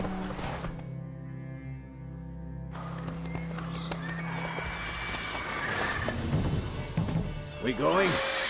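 Roach the horse in The Witcher 3 video game whinnies and neighs over steady clip-clopping hooves, set against an ambient game soundscape with music and voices talking nearby.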